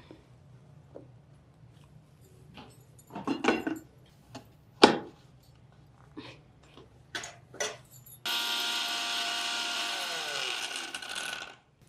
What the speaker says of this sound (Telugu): దీన్ని ఇప్పుడు మిక్సీ చేసుకుందాం